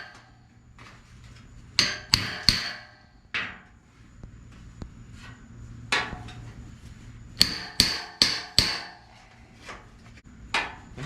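Sharp metallic hammer-and-dolly strikes straightening dented sheet metal on a 1980 Dodge D100 truck, in short clusters of quick blows separated by pauses, close and ringing briefly after each hit.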